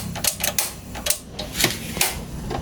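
Sharp clicks from a gas stove's igniter pressed repeatedly while someone tries to light the burner, roughly half a dozen snappy ticks at irregular intervals over a steady low hum.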